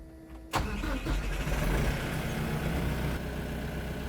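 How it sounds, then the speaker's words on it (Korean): A farm tractor's diesel engine cranks and catches, jumping from quiet to a loud, steady low rumble that holds close up to the end. "그래서 시동을 먼저 켜서 유압으로 탑링크를 조절해서"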